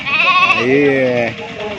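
A sheep bleats loudly nearby at the Gudur livestock market, a single drawn-out wavering call, with a faint second animal voice overlapping at the start.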